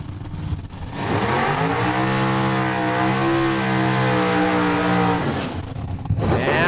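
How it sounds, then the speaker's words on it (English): A drag racing dragster at Saskatchewan International Raceway in Saskatoon does a burnout to heat its rear tires, the engine roaring loud and sustained for about four seconds, its pitch rising and holding, with quieter engine noise before and after. "All right, heating those rear tires."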